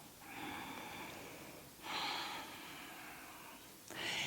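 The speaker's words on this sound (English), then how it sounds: "slow, deep breathing" Slow, deep breaths taken while holding a stretch of the front hip flexor, quiet and close, with long airy inhales and exhales in unhurried succession and no talking.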